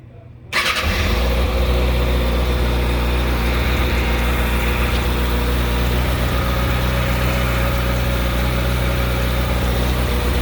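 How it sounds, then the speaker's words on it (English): A Kawasaki ZX6R sport motorcycle with a high-performance air filter cranks and fires up cold, then settles into a steady, loud, rumbling idle that continues unbroken at close range. "So let me start the bike real quick, let you guys see what it sounds like."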